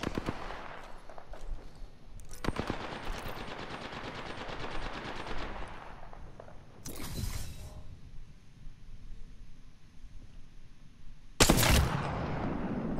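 Bursts of automatic gunfire from enemy players in a first-person shooter, rapid rattling volleys broken by sharp louder blasts, with background battle noise between bursts.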